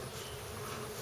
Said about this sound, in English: Bees are sticky little creatures.